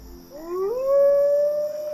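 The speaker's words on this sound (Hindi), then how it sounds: "ये क्या है, कुत्ता है?" A dog howls once in a single rising, sustained wail at night, loud and close, with no other sounds around it.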